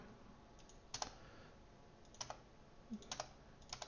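Computer keyboard typing during a Flutter app coding session, with soft, sparse clicks and short key clusters, close but faint in a quiet room.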